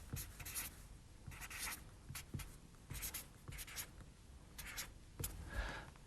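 Pen or marker strokes write out an algebra equation by hand, a steady series of scratchy bursts with short pauses between strokes, close and fairly quiet, with no talking.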